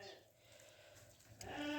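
Hungry sheep in a snowy farmyard in western Ukraine give a short, fairly near bleat toward the end, after a stretch of quiet outdoor background noise.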